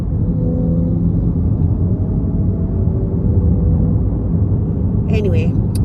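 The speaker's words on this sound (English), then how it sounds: "I can make my car so noisy" Loud, steady rumble from a car engine modified to be noisy, droning continuously at close range throughout, with a brief higher squeal near the end.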